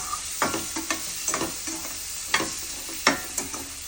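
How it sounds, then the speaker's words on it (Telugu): Sliced onions frying in a pan for a mushroom gravy, sizzling under close, irregular spatula scrapes and clacks as they are tossed back and forth, with no talking. "అటు ఇటు కలుపుతూ వేయించుకోవాలి."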